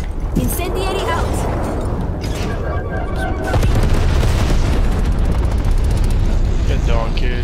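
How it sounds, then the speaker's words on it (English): Napalm strike explosions in a video game, a steady roaring rumble of booms and bursts that grows louder partway through, with voices talking over the blasts. "Sit rep, napalm strike inbound."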